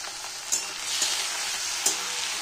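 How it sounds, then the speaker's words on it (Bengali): Shrimp sizzle in a pan with fried onions, a steady close frying hiss marked by about three sharp stirring scrapes. "চিংড়ি মাছটা একটু হালকা হালকা করে ভেজে নেব"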